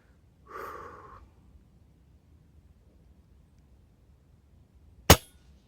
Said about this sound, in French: j'ai tiré, pour moi, dans le centre de la canette